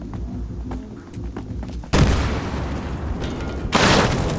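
Grenade blasts in a Battlefield Hardline firefight, two loud broadband booms about two seconds apart over a backdrop of distant gunfire and game noise.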